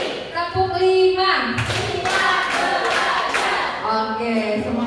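A group of adults claps in counted rounds during a classroom concentration exercise, with repeated bursts of hand claps mixed with speech and voices throughout.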